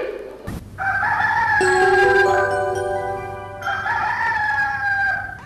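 A loud rooster crow rings out in a children's stage play, a long drawn-out cock-a-doodle-doo close to the microphone, followed by a second crowing phrase.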